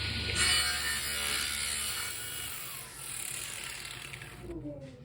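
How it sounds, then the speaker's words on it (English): A power saw cuts through a wooden board in a woodworking shop, a loud continuous whine that holds for several seconds before it winds down. "Now we're going to cut the other section which didn't get cut."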